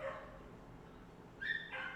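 Dogs barking somewhere outside, distant and muffled, with a couple of short yips near the end over a quiet room tone.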